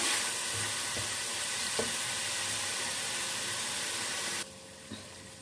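Mutton keema frying in a karahi-style pan makes a loud, continuous close sizzle with a few stirring knocks, then drops abruptly to a quieter hiss near the end.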